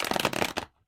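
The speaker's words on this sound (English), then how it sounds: "I'm already catching vibes from the shuffle." Tarot cards riffled in a quick shuffle, a brisk burst of papery flutter and snaps lasting just over half a second before falling silent, close and fairly loud.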